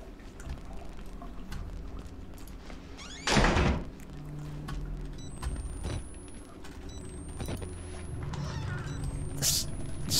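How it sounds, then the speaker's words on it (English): A door slams once with a loud, heavy thud in a dark horror video game, set against a low rumbling ambient drone, followed by quieter knocks and creaks. "So loud when he slams the doors."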